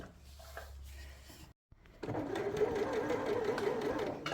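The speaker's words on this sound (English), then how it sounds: "if I press my foot down very lightly, I can sew as slow as I like" A sewing machine controlled by a foot pedal starts up after a short silence and runs steadily with a fast, even whirring hum, close and clear.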